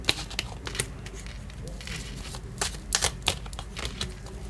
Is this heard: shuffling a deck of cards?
yes